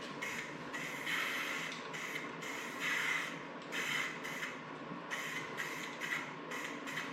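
Spray paint hisses onto a sandblasted big-block intake manifold in a medium coat, a series of steady close bursts, each a few seconds of airy hiss with brief pauses between passes.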